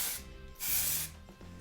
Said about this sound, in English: I've got some volumizing texture spray